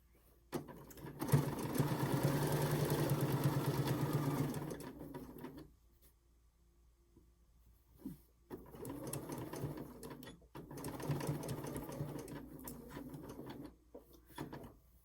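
A longarm quilting machine stitches a filter-opening face mask, running in two steady, fairly loud bursts of rapid mechanical whirring separated by a short quiet pause, with faint clicks in between.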